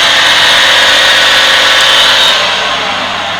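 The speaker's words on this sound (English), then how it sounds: "testing the dryer fan blower that moves the hot air through the unit" A steady, loud whooshing hum from an EWD1477 washer dryer's dryer fan blower, tested in service mode, runs continuously, fading slightly toward the end, with no voices.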